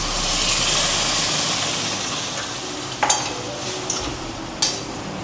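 Spices fry in hot oil for a Bengali moong dal with fish, a continuous bright sizzle with stirring, punctuated by a few sharp clinks of the utensil against the pan.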